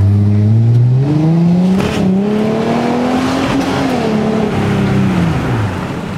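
A 2005 Ford Mustang V6 with a modified exhaust pulls away, its loud engine note rising and shifting as it accelerates off up the street, the sound steady and close before easing slightly at the end.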